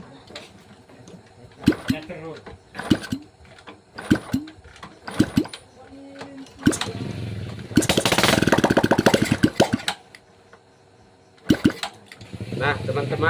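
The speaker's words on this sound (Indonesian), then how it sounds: "motor ini sudah mau hidup tapi belum ada lansam" Repeated attempts to start a Honda Supra X 125 motorcycle engine that smokes, sharp cranking bursts that briefly catch into a rough idle, interspersed with talking.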